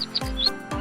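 A finch gives a few short, bright chirps, with two or three quick calls spaced apart in under a second. The calls are clear and fairly close, with no talking.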